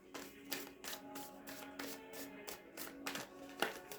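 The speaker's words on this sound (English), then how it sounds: "One more shuffle." Tarot cards shuffled by hand: a run of soft, rhythmic riffling taps repeating about every half second, close and fairly quiet, with no speech over it.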